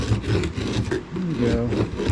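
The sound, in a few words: scraping dirty wood with a dull chisel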